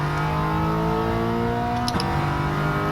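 A 2015 Toyota GT86 boxer engine drones at steady high revs in a racing video game, a sustained humming tone with a brief dip and shift near the middle as the pitch changes, then continues at steady revs, with no talking.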